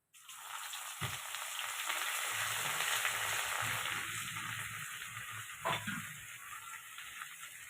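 Ginger-garlic paste drops into hot oil tempered with cumin, mustard seeds and hing, bursting into a steady, close frying sizzle with a couple of soft stirring knocks.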